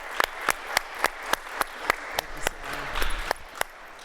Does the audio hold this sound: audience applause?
yes